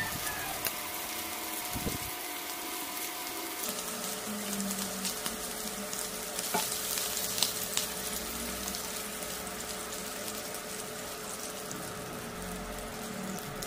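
Salted, peppered shrimp fry in hot oil in a pan, giving a steady, fairly loud sizzling hiss throughout with a couple of brief clatters from the pan.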